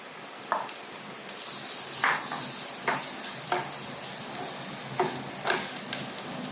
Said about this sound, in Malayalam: ഇതിലേക്ക് നമ്മൾ വറുത്ത് വെച്ചിരിക്കുന്ന ചെമ്മീൻ ഇട്ട് കൊടുക്കുക